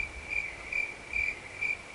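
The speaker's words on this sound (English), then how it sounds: "Crickets!" Crickets chirp in four evenly spaced, shrill pulses against a quiet, faintly rumbling background.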